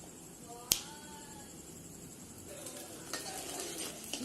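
Tomatoes and onions sizzle as they sauté in a clay pot on a mud wood-fired stove while fish kulambu is cooked, a steady frying hiss with a sharp click near the start and soft stirring scrapes.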